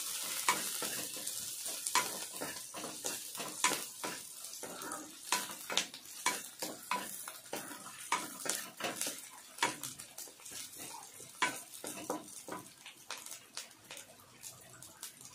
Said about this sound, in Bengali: এবার এর মধ্যে আদা রসুন টুকরো টুকরো করে নিয়েছি, এর মধ্যে দিয়ে দিলাম। ভালোভাবে ভেজে নিতে হবে।